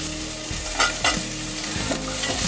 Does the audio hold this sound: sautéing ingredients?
yes